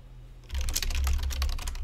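Slash command typed on a computer keyboard: a quiet pause, then a rapid, close run of crisp key clicks that continues to the end.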